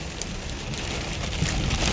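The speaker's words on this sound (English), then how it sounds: "We got some rain" Heavy rain hisses steadily during a West Texas hailstorm, a dense, close wash with occasional sharper drops striking a surface.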